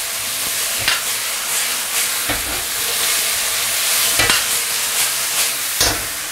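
Green peppers and shredded pork stir-fried in a wok with sweet bean sauce: a steady sizzle and frying hiss runs throughout, with several louder scraping stirs of the spatula against the pan at irregular intervals, close and with no talking.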